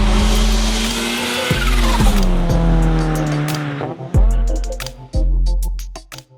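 A Nissan Stagea RS4 wagon, the GTR-style estate, drives hard, its engine droning loud and close and climbing in pitch before dropping sharply at each of several gear changes.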